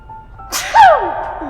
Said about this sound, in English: Oh shoot, I'm sorry, I sneezed.